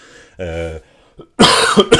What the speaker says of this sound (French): vous allez peut-être m'entendre tousser quelques fois